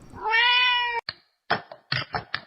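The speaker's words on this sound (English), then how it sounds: "Got a cat?" A cat lets out one long, loud, close meow, followed by a few shorter chirping mews and small bumps.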